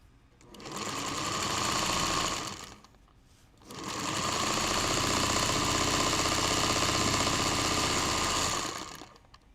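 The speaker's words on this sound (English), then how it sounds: "I personally love the sound of a vintage sewing machine." A vintage sewing machine runs in two stretches, a short burst, a brief pause, then a long steady whir with a rapid mechanical rattle, fairly loud and close.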